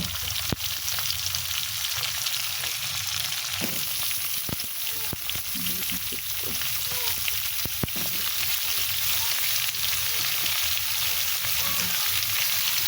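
Chayote fries in a pan with a steady, close sizzle that carries on throughout, broken by a few sharp clicks of a utensil against the pan.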